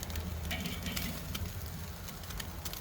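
Sous vide pork chops sear in a hot pan over a flame, giving a steady close sizzle with scattered sharp crackles and pops.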